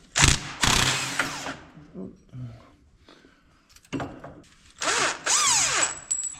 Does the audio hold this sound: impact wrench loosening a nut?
yes